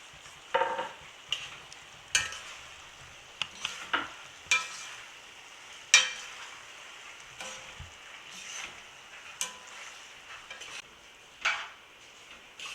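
Scallion, cilantro and tomatoes stirred into a pan for curried canned salmon, with soft scraping and clinking of a utensil against the pan in irregular bursts over a faint low sizzle, close by, no talking.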